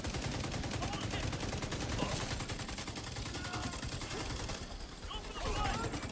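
Rapid assault rifle fire in The Division 2, bursts of shots crackling densely and loudly through most of the stretch with a short lull near the end.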